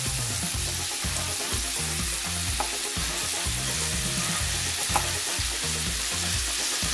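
Beans fry in a pan with pointed gourd for a mixed vegetable bhaji, a constant bright sizzle close up, with rhythmic scraping and clatter from steady stirring throughout.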